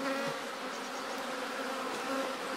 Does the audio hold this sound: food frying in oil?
no